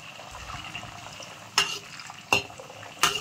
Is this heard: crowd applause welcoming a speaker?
no